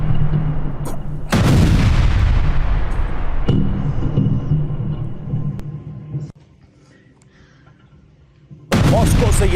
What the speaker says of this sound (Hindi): ड्रोन का मलबा इमारत पर गिरने के बाद धमाका हुआ,